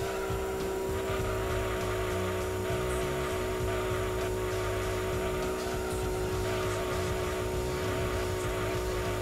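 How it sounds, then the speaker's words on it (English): Racing car engine in Gran Turismo 2 driven through corners, a steady loud drone with faint irregular thumps, as the suspension bounces, throughout. "You can hear it just like bouncing out the suspension"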